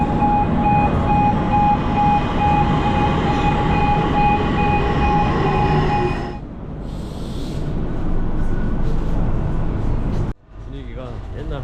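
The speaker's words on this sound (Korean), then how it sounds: "진짜 한국 90년대 생각나는 지하철이다" An old Egyptian metro train rides along with a loud, steady rumble and sustained tonal whine that drops away partway through, leaving lighter rolling noise, with a brief dip near the end.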